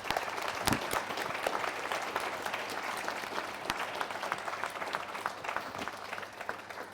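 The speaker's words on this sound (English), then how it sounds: "Can we say have a huge round of applause for our panel as well today?" An audience at a university careers event applauds its panel, a sustained crowd clapping with occasional sharp, close claps punctuating the steady patter over several seconds.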